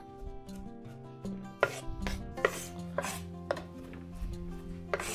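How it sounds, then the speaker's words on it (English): A knife chops parsley rhythmically on a cutting board, a series of sharp close knocks at an uneven pace, with no talking. "Now I'm going to start chopping it up"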